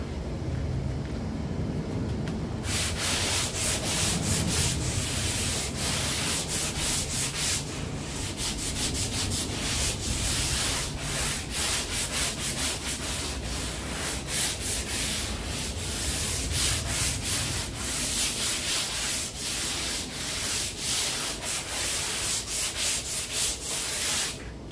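Continuous loud hand sanding of Bondo body filler on a car quarter panel with 80-grit paper, steady rhythmic rasping strokes throughout with no talking.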